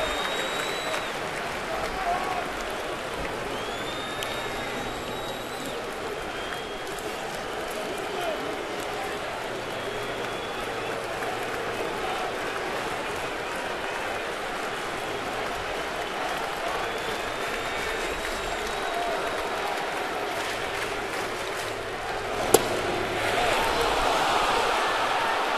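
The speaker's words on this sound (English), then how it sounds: "You hear this crowd totally into the game." Crowd at a baseball stadium during a 2009 playoff game, a continuous loud roar of cheering and clapping throughout, swelling slightly toward the end, with commentators talking over it.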